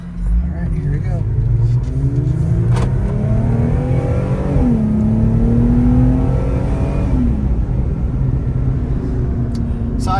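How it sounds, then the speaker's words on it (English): A Jeep Gladiator with a compact muffler revs loudly and steadily while pulling out of a parking lot, its engine note rising and falling close by. "I gave it some gas just to get out of the parking lot, and I think it sounds pretty damn good"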